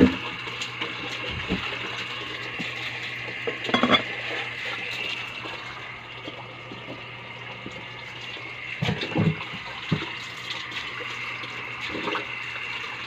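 A pot of nilaga pork rib soup bubbling on the stove, a steady watery churn and gurgle with a few louder splashy surges and clinks against the pot.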